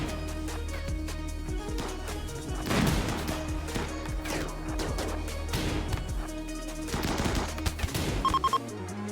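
Gunfire in RimWorld: bursts of rapid shots and impact cracks layered over game background music, loud and busy throughout, with a short run of quick pops near the end.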